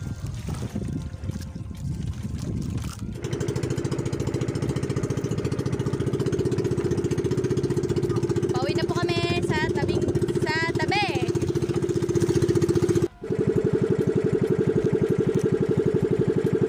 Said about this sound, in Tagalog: At bibira natin ang ating makina.